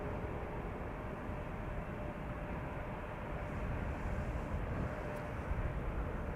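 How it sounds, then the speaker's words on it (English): Boeing 787-10 Dreamliner PH-BKL, two years old, at Amsterdam Schiphol, a steady broadband jet roar held at constant level for the whole stretch, slightly swelling near the end, with no voices. "78710 Dreamliner, the PH-BKL, 2 years old"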